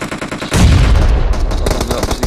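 Rapid bursts of automatic gunfire from the mobile battle-royale game PUBG Mobile, loud and dense, with repeated shots hammering in quick succession.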